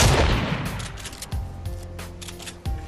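Gunfire in the video game Fortnite. A loud burst of rapid shots opens the clip and decays into a reverberant tail, followed by two more sharp single shots.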